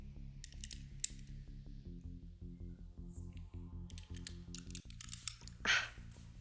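Small dice clatter and click across a tabletop in quick bursts of light rattles during a zombie-hunting tabletop role-playing session, close and fairly quiet, with faint voices in the room.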